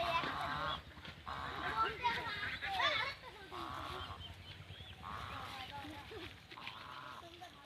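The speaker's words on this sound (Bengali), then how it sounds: "রাজাস কীভাবে ঘাস খাইছে" Geese grazing on grass give repeated nasal honks in bursts with short gaps, moderately close, over a low background murmur.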